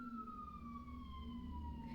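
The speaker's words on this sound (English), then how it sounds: "as that siren's going past" An emergency vehicle siren passes in the distance, its faint, steady wail sliding slowly downward in pitch over a low traffic rumble.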